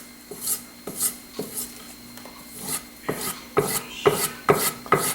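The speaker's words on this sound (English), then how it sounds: "I'm going to take this knife now, and I'm going to use the suede leather and just the back of the knife" The back of a kitchen knife is drawn along a suede leather strop in repeated strokes, each a soft, close rasping rub; strokes come slowly at first, then quicker and louder in a steady rhythm.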